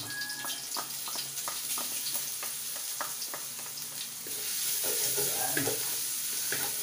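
Garlic sautéing in a pan while being stirred, a steady sizzle of frying broken by regular scraping strokes, growing a little louder toward the end, close and without voices.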